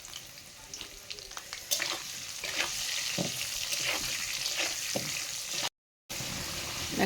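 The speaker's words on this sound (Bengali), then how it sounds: "সেই জন্য কিছু আলু ভেজে নিচ্ছি" Potatoes frying in oil as part of a meat dish, a steady close sizzle with crackles and stirring clatters, cut off by a brief dropout near the end.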